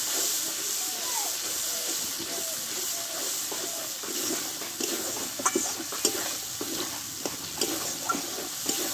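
Spice paste with cashew paste stirred in a hot pan, giving a steady close sizzle and hiss with soft scraping strokes and a few sharper taps of the spoon against the pan.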